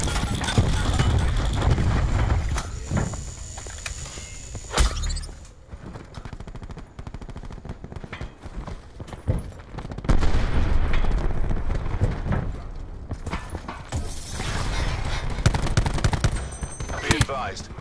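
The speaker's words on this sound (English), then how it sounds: "Cluster grenade. Enjoy." Cluster grenade in a multiplayer shooter hardpoint match going off amid chaotic gunfire, a string of sharp bursts and booming blasts layered over constant dense battle noise.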